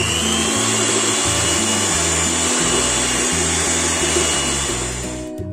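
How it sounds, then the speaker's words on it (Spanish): An electric hand mixer whirs steadily as it beats cream cheese and sugar in a splash-guard bowl for a La Viña-style cheesecake, a continuous loud motor drone with rhythmic pitch shifts as the beaters move, alone and without voices. "Batimos el queso crema y el azúcar."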